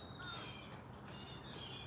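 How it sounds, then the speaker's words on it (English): Crows cawing outdoors at twilight, a steady chorus of calls at moderate distance over constant low background noise. "And listening to all the birds."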